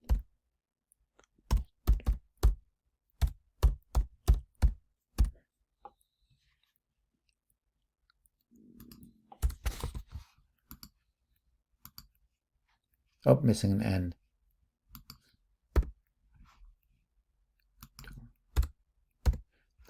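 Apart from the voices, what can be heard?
typing on computer keyboard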